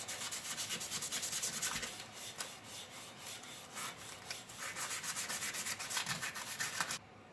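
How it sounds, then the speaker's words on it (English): Rhythmic hand sanding of a metal part from a Stanley Defiance hand plane being polished to a shine, rapid steady back-and-forth scrubbing strokes, close and alone, stopping abruptly at the end. "I'll start sanding just a tad just to make it a lot more shiny."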